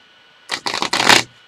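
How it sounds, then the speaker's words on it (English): Tarot cards being shuffled by hand, three quick riffling bursts of close papery rustling and flicking in a quiet room. "Let me shuffle them and see how it goes."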